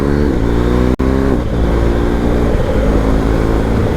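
A motorbike rides along a road on a chilly, overcast day, its engine and wind noise forming a loud, steady roar throughout, broken only by a split-second dropout near the start.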